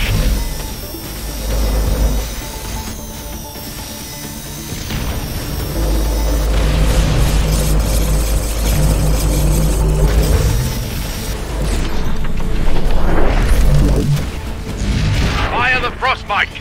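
A frostbite cannon fires in the video game X-Morph Defense, sending heavy, rumbling booms and blasts across a dense battle soundscape while an in-game voice speaks over the action.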